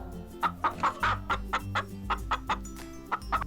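A hen clucks in a quick, uneven series of short calls, close by, over a low background hum.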